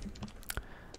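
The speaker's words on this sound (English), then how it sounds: "Typing intensifies." A brief burst of keyboard typing in the video game L.A. Noire, a few quick close clicks and taps over about a second, heard alone without speech.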